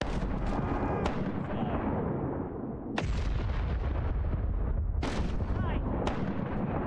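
Ship cannons firing in a pirate sailing game on the high seas, a series of heavy booming blasts roughly every second or two over a continuous loud rumble of battle noise, with a brief spoken word.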